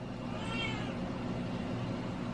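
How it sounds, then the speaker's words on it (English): A pet cat meows indoors, her calls faint and a little drawn out over a steady background hum, with no other voice present. "She does this sometimes. She just meows."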